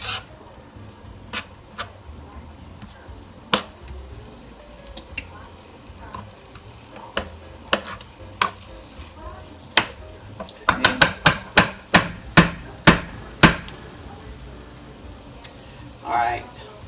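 Ground beef cooking in a pot, with a soft sizzle under sharp spoon scrapes and stirring clicks that become a fast burst of strokes toward the end.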